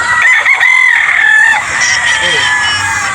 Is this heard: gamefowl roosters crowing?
yes